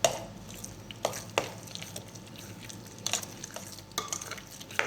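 A spoon stirs meat pie filling with pomegranate molasses in a pan, giving quiet scraping and several sharp clinks against the metal at irregular intervals over a soft background.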